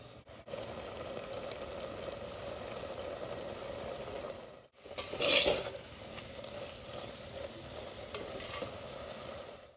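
Squid fry sizzling in a pan, a steady close frying hiss with stirring scrapes, broken by a brief pause and then a short louder burst of sizzle before the steady frying resumes.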